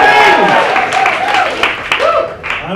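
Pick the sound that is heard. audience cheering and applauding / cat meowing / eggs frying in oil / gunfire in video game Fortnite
audience cheering and applauding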